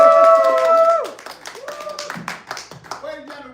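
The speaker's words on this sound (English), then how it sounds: "Can I get a round of applause?" Audience applause on a live television network broadcast: scattered, fairly close claps with voices and musical tones layered over them, lasting only a few seconds.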